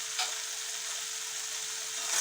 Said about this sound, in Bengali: এইভাবে আমি একটু কষিয়ে নিচ্ছি মশলাটা।